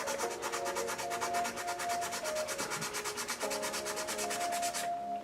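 A costume piece is sanded by hand indoors, giving steady, rhythmic back-and-forth scraping strokes that are close and continuous, with a faint background hum.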